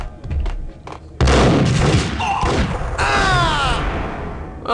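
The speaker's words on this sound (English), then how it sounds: "I shot him so hard his head went through the wall." Loud gunfire from the video game Max Payne, a sudden heavy blast followed by dense rattling shots and crashing impacts, with a man's exclamations in between.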